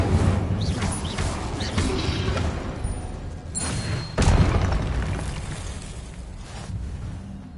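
Spell blasts and explosions in the Hogwarts Legacy video game, a dense run of booming bursts and crashes that follow one another, each loud and close, with a heavier blast about halfway through.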